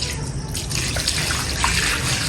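Steady running water being poured to wash wheat grain at home, a continuous splashing trickle close by with no talk.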